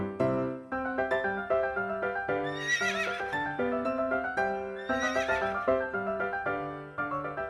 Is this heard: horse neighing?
yes